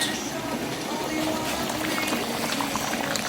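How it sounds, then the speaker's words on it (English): Steady bubbling of a thick Jamaican curry chicken stew simmering in a pot, a continuous close gurgle with light popping. "that is the chicken is bubbling"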